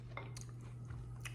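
Someone bites into a crispy cookie with a caramel touch, producing a few short, close crunches spread across a brief moment over a steady low hum.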